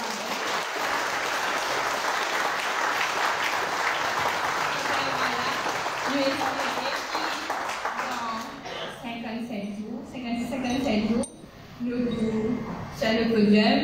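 An audience applauds at a French ceremony honouring athlete Noemi Alphonse's medal, dense sustained clapping for about eight seconds that thins out, after which voices talk with a few scattered claps in between.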